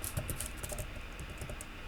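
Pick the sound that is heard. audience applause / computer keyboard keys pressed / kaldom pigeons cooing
computer keyboard keys pressed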